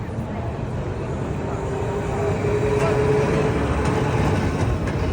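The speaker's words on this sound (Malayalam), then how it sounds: "ഇതാണ് ഈ ട്രാം എന്ന് പറയുന്നത്." A tram rumbles along its rails in a steady low roar that swells slightly, with faint murmurs of people in the background.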